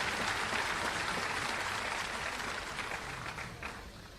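A crowd applauds at a formal Solapur event featuring Chief Justice Uday Lalit, producing a sustained wash of many hands clapping that stays full and loud for several seconds, then tapers slightly toward the end, with no talking.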